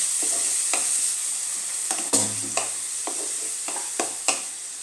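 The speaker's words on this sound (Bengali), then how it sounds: "এর মধ্যে একটু জল দিয়ে আমি মশলাটাকে কষিয়ে নেব।" Spice masala for tadka dal fries with a little water in a pan, a soft steady sizzle punctuated by several sharp scrapes and clinks of a spoon stirring against the pan.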